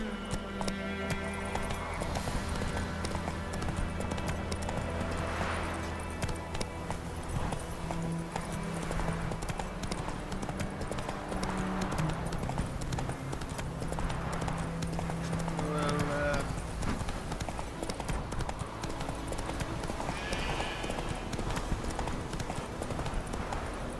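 Horse hooves clip-clop steadily at a gallop in The Witcher 3 video game, loud and continuous with occasional whinnies and a low musical bed underneath.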